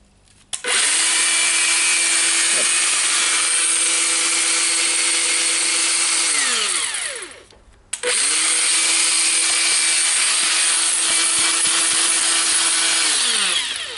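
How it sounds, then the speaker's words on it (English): A battery-powered Makita 18V angle grinder, freshly fitted with a new armature and brushes, spins up loud and close, whines steadily for about six seconds, winds down, then runs again for another long steady burst. "now I need to test the grinder"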